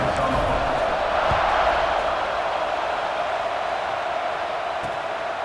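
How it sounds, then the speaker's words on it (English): A stadium crowd in a college football video game, NC State versus Virginia Tech, sends up a steady, broad roar of cheering that holds at an even level throughout without distinct peaks. "this crowd is feeling themselves after that last drive"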